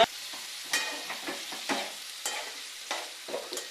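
A spoon stirs ridge gourd curry frying in a pan, giving a steady low sizzle broken by repeated scraping strokes at an uneven rhythm, close up, with no voices.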